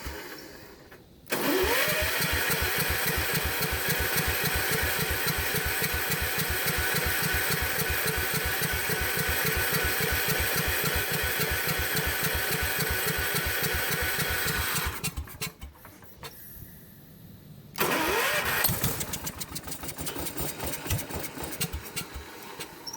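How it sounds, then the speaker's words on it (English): A warm generator engine runs with its choke stuck closed, a loud steady mid-pitched chug that drops out near fifteen seconds, falls quiet, then restarts and keeps running roughly. "The engine should be pretty warm, and the choke isn't opening."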